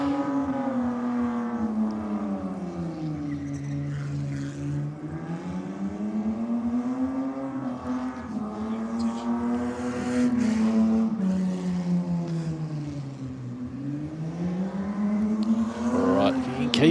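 Race car with a 4-litre single cam engine droning nearby, its pitch rising and falling in long sweeping waves as it labours in a higher gear, with a voice talking over the steady roar.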